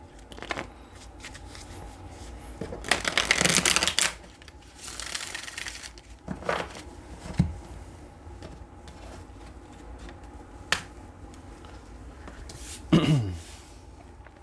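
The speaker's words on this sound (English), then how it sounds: "Our last shuffle." Several bursts of tarot cards being riffled and shuffled, fairly close, with quieter handling and soft taps between them and a final quick riffle.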